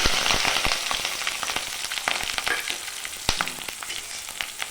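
Small shallots and green chilies hit hot oil with fenugreek in a pan, crackling and spitting loudly with dense irregular pops and a constant sizzle, no voices.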